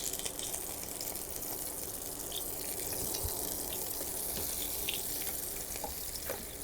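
Lobster halves sizzling in hot oil in a pan with fresh sliced chili, a dense continuous crackling fry at medium heat, steady and close with no talking.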